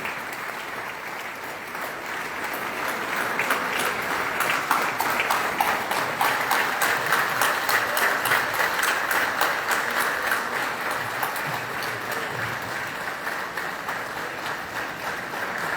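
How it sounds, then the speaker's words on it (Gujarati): A hall full of people applauds the children of a youth camp, loud sustained clapping that swells and continues evenly without voices. "સૌ શિબિરાર્થીઓને ફરીથી આપણે વીર તાળીઓથી વધાવી"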